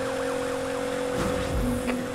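A police siren wails in a Need for Speed Heat pursuit, its steady warbling tone sweeping up and down over a continuous car engine drone, with a brief thump and rising engine surge near the end.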